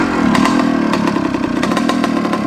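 A 1977 Suzuki RM250 motorcycle engine running close by with an overflowing carburetor, giving a loud, raspy, buzzing drone with uneven pulsing revs for a couple of seconds and no voices.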